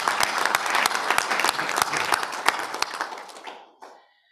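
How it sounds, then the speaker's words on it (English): A small group at a council meeting claps enthusiastically for a few seconds, irregular hand claps that quickly thin out and fade, ending with a brief faint sound. "I think that deserves a round of applause"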